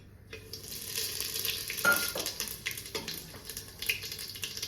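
Cumin seeds hit hot oil in a pan while a turnip and fenugreek vegetable dish is being cooked, giving a steady, dense sizzle with a few scraping stirs.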